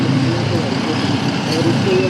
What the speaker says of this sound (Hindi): यहाँ पे आप देख सकते हो ट्रैफिक कितना हो रखा है